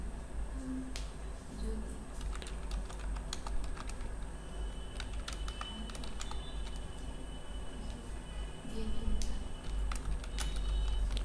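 Computer keyboard keys tapped while entering numbers into an MS Access form, scattered close clicks in irregular bursts over a steady low hum, with faint talking in places.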